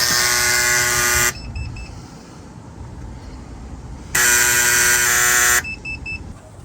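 An electronic door lock with low batteries gives two long, loud, buzzy beeping alarms about three seconds apart, with quieter room noise in the gap between them.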